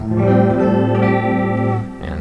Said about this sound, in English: I'm pretty sure that it's a pitch shifting kind of chorus